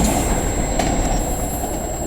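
A freight train of autorack cars rolls past close by, a loud continuous rumble of wheels on rail with a faint squeal, steady throughout.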